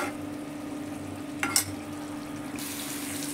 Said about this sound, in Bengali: এটাকে আমি ভালো করে নেড়ে চেড়ে মশলাটাকে কষে নেব